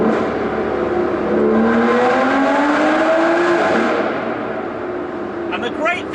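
An Aston Martin V12 Vanquish S revs hard inside a tunnel, a loud rising and falling engine howl echoing off the walls, with a voice talking over it and a few sharp chirps at the end.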